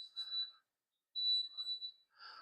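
A Hygger aquarium heater sounding its low-water alarm: high-pitched electronic beeps in short bursts with a pause between, faint and fairly close, without any talk.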